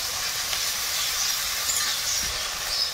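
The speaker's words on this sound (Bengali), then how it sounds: "এবারে দেবো আদা রসুন বাটা" Ginger-garlic paste added to chicken cooking in a pan, a continuous moderate hissing sizzle with a faint steady bubbling texture, no talking.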